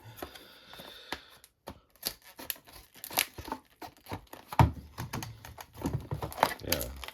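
Quinn scissors snip and tear through tough plastic packaging on a Hercules 20 volt cordless stick light, giving irregular crinkling, rustling and cutting bursts close to the mic with occasional speech.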